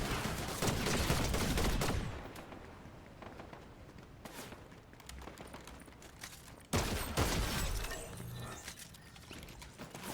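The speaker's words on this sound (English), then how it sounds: "Oh, person shooting?" Gunshots in a first-person shooter video game, with loud dense bursts of fire at the start, quieter scattered shots in the middle and another loud burst near the end, with hoofbeat-like clatter mixed in.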